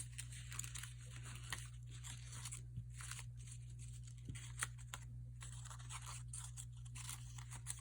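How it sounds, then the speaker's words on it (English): Crafted paper flower petals are crunched by hand in a continuous crisp crinkling and rustling, close and quiet, over a low steady hum. "I'll pop these again up and I'll just start crunching them"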